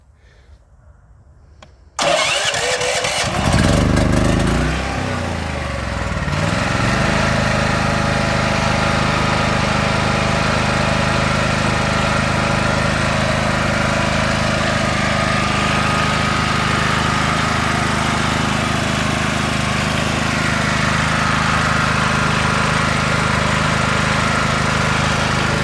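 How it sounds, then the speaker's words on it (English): A Predator generator fitted with a tri-fuel kit is cranked, catches with a rising engine surge, then settles into a loud, steady idle that runs on without talk. "let me go ahead and try and crank it, and then I'll have to adjust this idle block right there"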